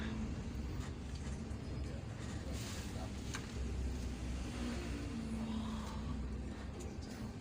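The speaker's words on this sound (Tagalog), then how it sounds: "Ito, bumper ng traffic, sobra, bumper na bumper." Dense, steady roar of heavy bumper-to-bumper night traffic with cars and buses on the road near San Pablo toward Buhi and Iriga, Camarines Sur, a continuous low rumble with no clear pauses.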